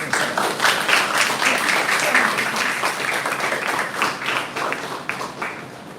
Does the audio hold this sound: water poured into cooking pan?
no